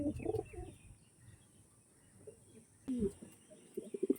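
Pigeons coo softly in short low bursts, a few close calls scattered among faint chirps, with someone talking at times.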